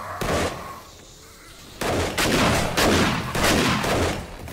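Video game gunfire in Feral City, with loud bursts of rapid shots in clusters after a short pause, close and harsh.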